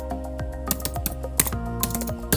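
A computer keyboard is typed on in a quick, uneven run of close, crisp key clicks with no voices.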